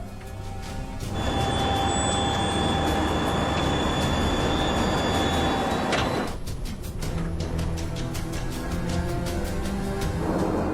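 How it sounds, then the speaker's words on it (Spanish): Landing gear of a Garuda airliner deploying during approach: a loud, steady mechanical rumble and rush fills the cabin, with a sustained whine and rattling that swells after a second and carries on to the end. "Desplegando tren de aterrizaje."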